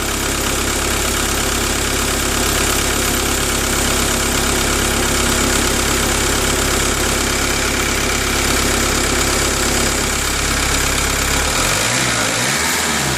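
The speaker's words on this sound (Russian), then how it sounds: "Как-то жестко работает двигатель." A VW Passat B3 with a 1.9 TDI diesel engine running roughly, a loud, continuous, harsh clattering idle with a steady rhythm that carries on without talk and cuts off abruptly near the end.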